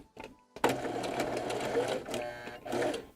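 A sewing machine stitches a puppet seam in a fast, buzzing whir that starts after a brief pause and runs on with slight speed changes, close and moderate, while a person talks over it.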